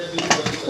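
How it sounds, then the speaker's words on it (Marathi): A metal lid goes onto a pressure cooker holding biryani, producing a quick cluster of close metallic clinks and scrapes over less than a second. "कुकरचं झाकण लावायचं."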